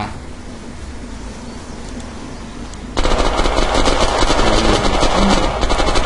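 Gunfire from the video game Unturned, an automatic weapon firing in a sustained dense burst that starts abruptly about halfway through, loud and close, after a quieter stretch of ambient game noise.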